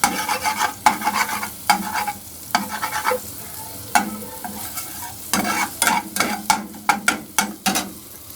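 Chicken stirred and fried in a little oil in a pan, a steady sizzle under repeated close scraping strokes of a spoon, with the rhythm quickening toward the end and no talking.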